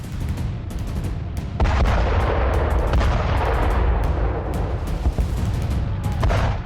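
Russian shelling in Mariupol during the war, heard as a dense, rumbling barrage of booms and sharp cracks overlapping continuously, loud and unbroken with no talk.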